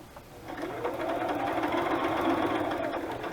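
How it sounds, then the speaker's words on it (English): A sewing machine stitches through a handmade craft journal in a steady, rapid mechanical whir, up close and continuous for a few seconds. "Sewing, I really like the touch of sewing in the journals."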